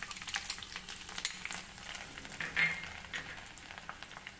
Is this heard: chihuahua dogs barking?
no